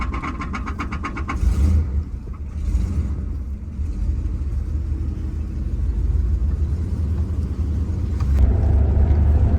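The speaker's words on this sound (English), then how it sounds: "I'm just going to spin it around the block real quick." A 1980 Cadillac Coupe Deville, freshly fitted with a swapped carburetor and a welded driveshaft after sitting a long time, drives off with a steady, close engine rumble that swells as it pulls away and picks up speed.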